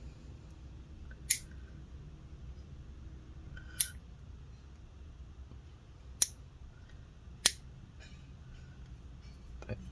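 Fingernail clippers snip nails in four sharp, isolated clicks a couple of seconds apart, close and crisp against a quiet room hiss.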